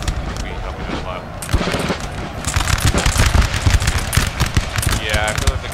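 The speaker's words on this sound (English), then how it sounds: "I feel like the gunshots are actually doing a good job of getting them." Musket fire during a Napoleon Total War battle, a dense rattle of overlapping shots building into sustained crackling volleys over low battle rumble, with talk in the mix.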